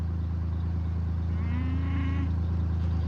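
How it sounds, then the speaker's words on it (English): Cow bellowing at night on a farm, a single drawn-out low call rising midway through, moderately close over a steady low rumbling background hum. "Who's bellowing over here?"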